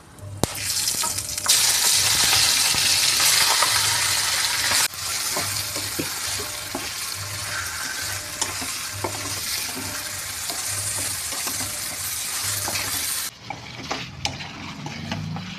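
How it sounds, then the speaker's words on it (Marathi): Marinated chicken fries in hot oil in a kadai with whole garam masala, a loud continuous sizzle with scraping stirs and clinks, easing slightly partway through. "पाच मिनटं परतून घेऊ आपण चिकन आणि मग झाकण घालून ठेवू."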